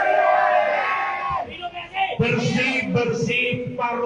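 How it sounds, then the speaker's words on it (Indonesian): Political supporters at a rally shout together loudly in a big crowd roar. The outdoor chorus of yelling rises and falls in waves, with a brief lull partway through. "Coba teriakan yang keras."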